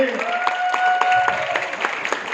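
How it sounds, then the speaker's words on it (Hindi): Loud applause from an audience at a leadership development training session in a New Delhi hotel, dense clapping throughout with a brief whistled or sung tone and some voices mixed in early. "एक बार जोरदार तालियां"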